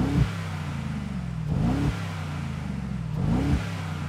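A new Mercedes-AMG G63's powerful engine revs three times in quick succession, each blip rising sharply then falling back to a rumbling idle between pulses.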